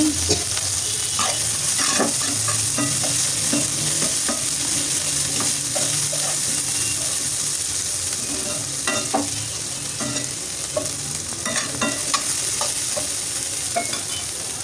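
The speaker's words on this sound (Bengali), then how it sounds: "এখানে দিয়ে দিচ্ছি কাটা পেঁয়াজ আমি সরিষার তেলে রান্না করছি" Chopped onions frying in mustard oil for a home-style potato and meat curry, a steady loud sizzle with repeated scraping stir strokes throughout and no talking.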